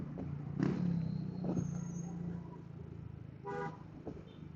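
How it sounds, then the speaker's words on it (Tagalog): Heavy road traffic on Mindanao Avenue toward NLEX and Valenzuela in the Philippines, with a low engine drone and several short car horn toots, near and fairly loud, standing out over the congested flow. "Grabe ngayon ang traffic dito."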